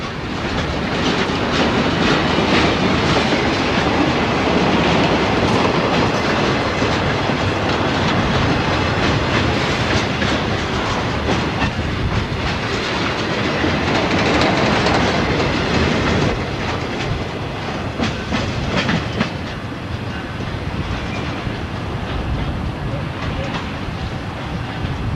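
Norfolk Southern local freight train P45 on the Tuxedo Branch between Brevard and Hendersonville, North Carolina, around 1990–1992, rolling past with a loud, continuous rumble and clattering wheels and cars, close by for the whole stretch.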